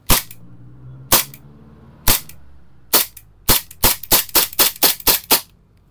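An airsoft gun with a 30-round magazine fires test shots. Four sharp cracks come about a second apart, then a quick run of eight or so shots in close succession, loud and near, with no talk.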